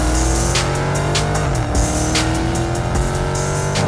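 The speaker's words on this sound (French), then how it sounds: "La voiture part, elle part tout droit." A Dodge Challenger R/T pulls away under steady throttle, its engine a loud, close, continuous roar with rising revs, layered with road and tire noise and brief sharp bursts along the way.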